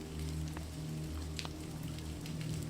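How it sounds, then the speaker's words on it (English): Rain splatters onto a pond in a steady, even hiss of drops, with a low constant hum beneath and occasional sharper drips standing out; no one speaks. "Rain splatters on the pond,"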